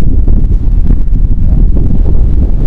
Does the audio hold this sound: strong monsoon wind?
yes